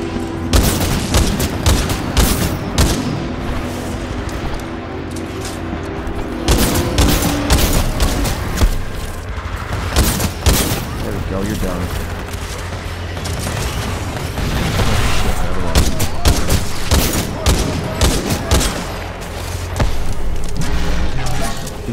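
Sustained gunfire and booming blasts from a Titanfall 2 firefight, loud and dense bursts rolling almost without pause, with a voice faintly mixed in.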